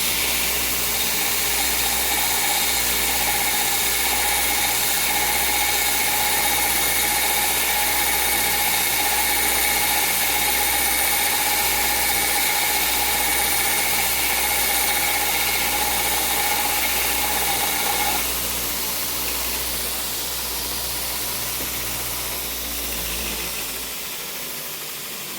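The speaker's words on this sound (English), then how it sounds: "This belt grinder I built a dozen years ago or so" A homemade belt grinder runs with a steady motor hum and a whining tone, loud and constant for most of the stretch, then shifts slightly and winds down near the end, with no talking.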